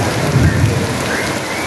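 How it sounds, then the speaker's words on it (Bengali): Heavy rain pours steadily onto surfaces at Eco Park in Kolkata while a low rumble of thunder rolls underneath. The sound is loud and close, with no talking. "দেখতে পাচ্ছেন বৃষ্টি হচ্ছে।"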